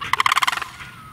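A large bird in an aviary lets out a rapid, rattling gobble-like call of about ten quick pulses, close and loud, lasting under a second before fading.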